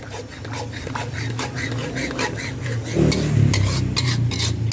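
A cornstarch-and-water slurry is stirred quickly into a hot pan while making Hong Kong-style Chinese kale with oyster sauce: a steady, close scraping swirl over a low sizzle that grows a little louder toward the end.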